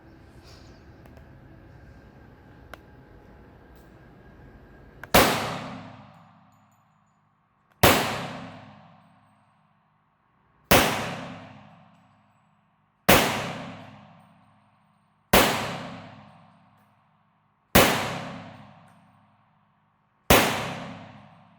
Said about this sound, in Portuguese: Para a primeira série de 10 disparos no alvo humanoide, a distância de 5 metros